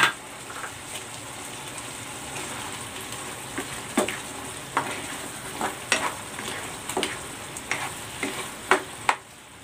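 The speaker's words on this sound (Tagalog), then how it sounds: "Ibabalik ko na dito yung sausage." Sausage sizzling in tomato sauce in a frying pan with hot sauce added, a steady crackling hiss punctuated by repeated sharp stirring scrapes and clinks, close and clear with no talk.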